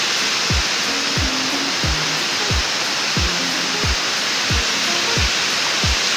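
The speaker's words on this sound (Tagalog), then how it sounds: "Yan, sarap, malakas ang tubig." Strong water pouring steadily at Aruyan Falls in Sablayan, Occidental Mindoro, a loud, dense roar of falling water, with several soft low thumps recurring through it and no talk.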